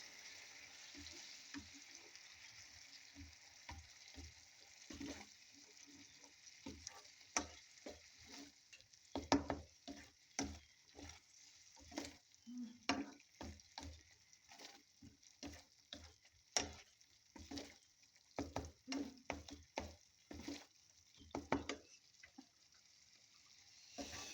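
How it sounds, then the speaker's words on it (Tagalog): Egg and tomatoes are stirred into sarciadong bangus, a Filipino milkfish dish, in a pan; a utensil scrapes and taps softly and irregularly against the pan over a faint, quiet sizzle. "So I put already 1 egg, 1 whole egg. Now we have to mix like this."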